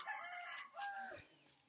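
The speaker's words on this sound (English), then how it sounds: "You're trying to get the chickens?" Rooster crowing in Cuba, one rising and falling call lasting over a second, with a quieter cluck from nearby chickens close to the end; moderately faint outdoor recording with no talk.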